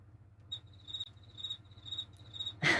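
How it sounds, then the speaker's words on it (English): Electronic cricket chirping sound effect, played back on a loop from a vMix production system: bright, evenly spaced chirps repeating about twice a second over a low hum, cut off by a sudden burst of noise at the end. "That's going to make me search for crickets everywhere."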